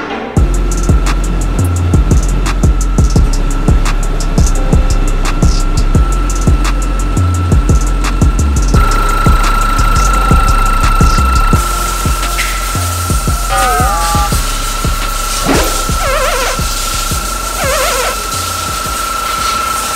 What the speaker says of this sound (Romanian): Dar ce se aude motorul ăsta? Nu, e alternatorul defect.